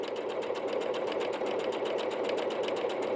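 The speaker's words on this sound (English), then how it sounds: "It's moving a little more slowly through the machine, which tells me we're going to get a denser stitch." A Bernette B-77 sewing machine runs a dense decorative stitch at a steady, fast needle rhythm, close and continuous with no talk.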